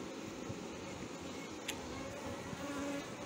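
Honeybees hum softly and steadily around an opened hive, a faint continuous buzz with no voices.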